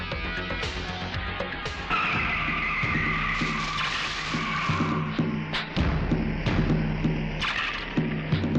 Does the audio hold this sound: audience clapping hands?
no